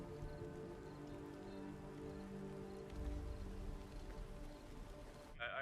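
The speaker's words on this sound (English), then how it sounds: "I wonder what that rain tastes like" Rain falls during a thunderstorm in a science-fiction TV episode, a soft, steady patter with faint tonal music underneath and a brief low rumble midway, heard at a distance.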